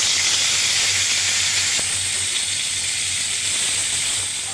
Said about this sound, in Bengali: আলুগুলো এবার প্রথমে ভেজে নিচ্ছে।